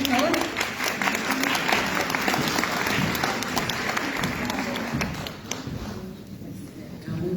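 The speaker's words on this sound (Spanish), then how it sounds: "Aplausos para ella, por favor." An audience at a talk on sexual and reproductive rights of people with disabilities applauds to welcome speaker Amira Ortiz, steady full clapping that thins and fades toward the end, with some voices underneath.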